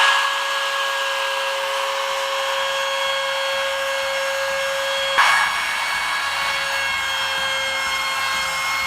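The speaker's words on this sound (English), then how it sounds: "So the small router has been adjusted with the chamfer bit" Small router fitted with a chamfer bit beveling the edges of boards for a sliding barn door, a loud steady high whine with a brief surge of cutting midway, close up.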